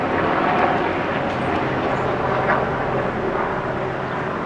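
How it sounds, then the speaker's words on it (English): A military helicopter flying overhead near a river, a steady broad engine roar that holds at a constant level, moderately loud, with no talk. "The military chopper."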